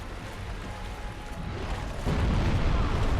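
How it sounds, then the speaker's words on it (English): A booming explosion attack from an enemy in Dark Souls Remastered, a broad rumbling blast that swells louder partway through and holds as a dense roar to the end, with no voices. "that was an explosion attack"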